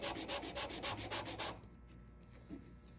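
Small walnut wood pieces being sanded by hand, a quick rhythmic series of about a dozen close rasping strokes that stop abruptly, followed by quiet with a faint knock.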